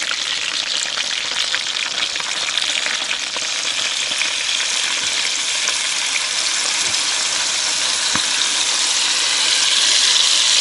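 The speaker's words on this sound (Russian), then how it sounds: "Теперь я вылью смесь специй." Spice mixture poured over chicken legs already fried on both sides in a pan for chicken tabaka, bringing a loud, steady, close sizzle that runs unbroken without talk.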